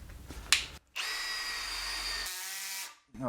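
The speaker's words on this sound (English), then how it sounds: "1/2-inch drill bit into 1/2-inch aluminium" A Makita drill with a 1/2-inch bit bores into 1/2-inch aluminium plate, a steady loud motor whine under cutting noise lasting about a second and a half, then easing off and stopping, with a short burst of tool noise at the start.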